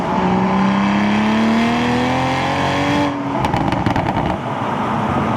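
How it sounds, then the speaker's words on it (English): A modified Toyota Supra engine with an MST intake and MST catless downpipe revs, its droning pitch sweeping upward, then gives way to crackly pops and burbles from the exhaust as it backs off. "this thing has an MST intake and an MST Cata downpipe, so it has a bit of extra sound"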